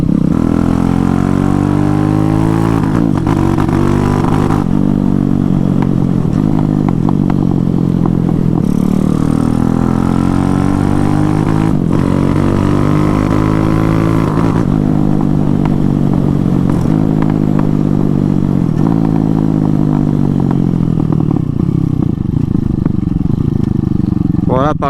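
A Honda MSX motorcycle with a swapped Zongshen 212cc engine runs loud and close, rising and falling as it revs and shifts through gears for a long stretch, with someone talking over much of it.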